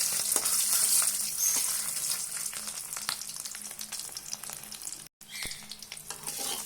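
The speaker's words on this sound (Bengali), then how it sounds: "তেলটা গরম হয়ে গেলে ডিমগুলো ভেজে দেবো।" Eggs fry lightly in hot oil in a pan, giving a steady, crackling sizzle dotted with sharp pops, briefly cut to silence partway through before the spitting resumes, with no one speaking.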